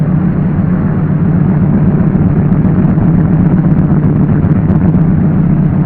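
Douglas DC-3 piston aircraft engines warming up at 800 to 1,000 RPM during a run-up, a loud, steady low rumbling drone that holds continuously with no break and no voices.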